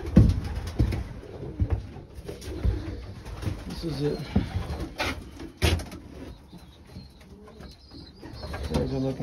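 Racing pigeons coo steadily inside a loft, with rolling, close calls overlapping throughout and someone briefly talking over them.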